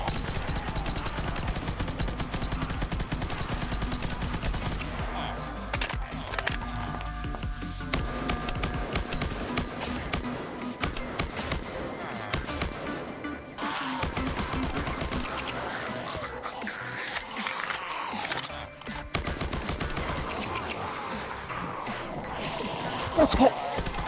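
Sniper rifle gunfire in an island zombie survival video game: repeated sharp shots crack over a dense, continuous wash of in-game noise, with further bursts of firing spread across the whole stretch.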